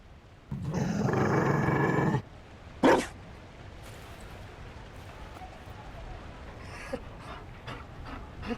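In the video game Dragon Age: Inquisition, a Mabari war dog gives a sustained rough panting growl up close, followed by a short sharp snarl, with speech and quiet ambience around it.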